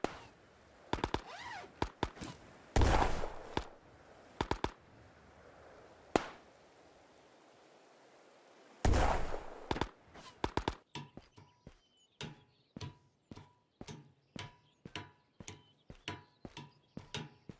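Grenades in the VR shooter Ghosts of Tabor: two heavy, booming blasts stand out among scattered sharp thuds, followed by a steady series of crisp knocks at an even pace.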